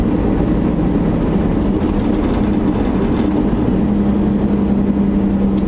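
A loud first-generation Cummins diesel truck engine drones steadily from inside the cab, its low rumble holding a constant pitch with no voices.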